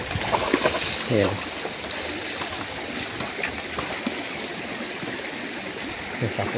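A stream in Tayabas, Quezon rushes and gurgles steadily nearby, a continuous flowing wash with a brief voice and faint noises under it.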